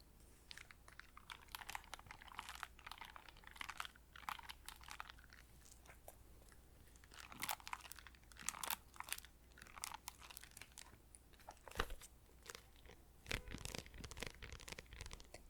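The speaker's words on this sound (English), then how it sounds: "what these covers have to offer that traditional hardcover books do not is two things: plastic spine noises" A plastic book cover's spine crinkling close up in a quiet room: soft, irregular crackles and crunchy bursts that come and go over several seconds.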